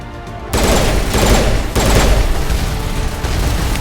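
Rockets firing and exploding in a video game, a loud continuous barrage of heavy blasts and booms with several strong hits in quick succession.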